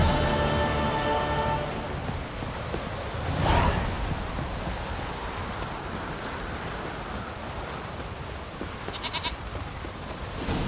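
Steady heavy rain in The Witcher 3: Wild Hunt, hissing and pattering, a dense continuous wash with a brief bleating animal sound at the start and a swell midway.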